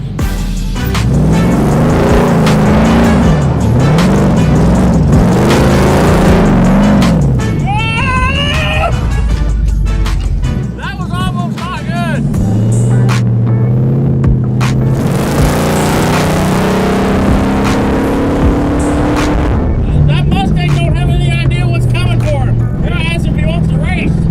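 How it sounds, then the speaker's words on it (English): A V8-engined VW Beetle drives and revs, the engine note rising and falling loudly and continuously throughout, with people talking over it. "We now have a V8 Beetle that runs."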